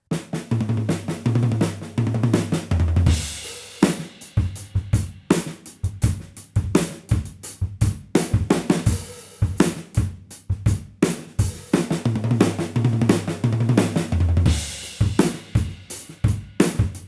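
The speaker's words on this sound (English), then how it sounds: "I'm now going to play 3 lots of snare to tom before I play the 4th" A drum kit plays a rudiment-based phrase of three snare-to-tom moves followed by snare to floor tom, with rapid loud strokes and deep tom hits repeating in a steady cycle, alone and close.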